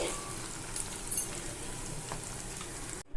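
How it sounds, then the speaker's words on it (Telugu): Baby corn deep frying in hot oil for a crispy snack, producing a steady, soft sizzle and crackle, close by, with no voices. "రెండో వైపు కూడా తిప్పుకొని మళ్ళీ కొంచెం ఫ్రై చేసుకోవాలండి"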